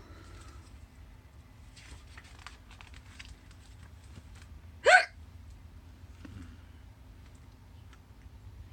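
A voice imitates a single hiccup, one sharp, loud squeaky gulp in the middle of a reading of a children's picture book about a little penguin with the hiccups, with quiet room noise before and after.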